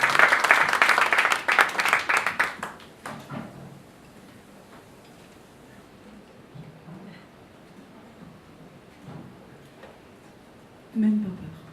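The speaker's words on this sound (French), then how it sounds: "on l'applaudit encore une fois, mesdames et messieurs." Audience applause at a poetry event, loud rapid clapping for the first two seconds that quickly dies away, followed by quiet room tone with faint scattered noises.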